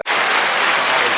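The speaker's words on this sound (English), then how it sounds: "Round of applause real quick." A round of applause from a small podcast studio group, loud and close, starting abruptly and holding steady as dense clapping for about a second.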